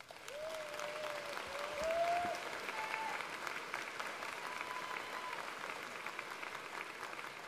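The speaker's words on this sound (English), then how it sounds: "Please extend to them a round of applause." Applause rolls steadily through a commencement crowd as alumni and guests are honoured, a fairly soft, continuous clapping wash lasting several seconds, with a faint tonal whistle-like sound near the start.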